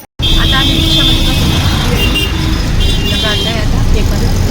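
An auto rickshaw ride on a road, with a loud, constant engine drone and traffic noise filling the whole stretch while people talk over it nearby.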